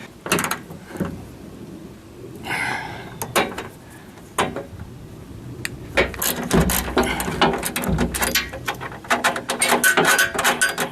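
A riv nut tool sets a rivet nut into a boat side slider on a 4x4, giving close, loud ratcheting clicks and metallic cranks that speed up into a dense burst of clacks as the nut pulls tight.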